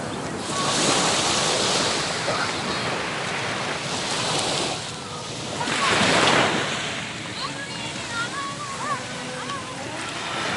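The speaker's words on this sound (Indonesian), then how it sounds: "Inilah Pantai Singkil di pelabuhan." Ocean waves wash in steadily at Singkil Beach harbor, a broad continuous roar that swells and eases, with wind buffeting the microphone and a faint voice in the background.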